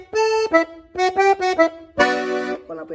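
A G button accordion plays a short phrase of straight notes without grace notes, crisp reedy tones in a steady sequence topped by a fuller sustained chord, close and alone.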